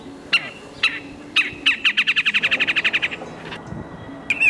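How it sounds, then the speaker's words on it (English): Bird calls in Central Park: several sharp chirps, then a fast run of about fifteen evenly spaced bright notes, with another call at the end, clear and fairly close over faint background noise. "I can play different calls to bring in birds."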